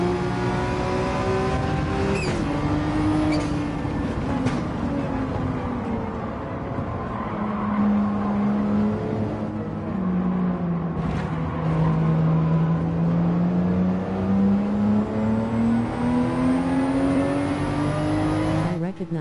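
A Porsche race car in Gran Turismo 7 drives through a run of gears, its engine holding a loud, steady drone that falls and then climbs again with the shifts. A voice talks over it at points.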